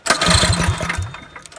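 A Predator 212 small engine fitted with a Tillotson TCT carburetor runs close by, a steady low throbbing idle at fair volume that holds for over a second before easing off slightly, with no one talking.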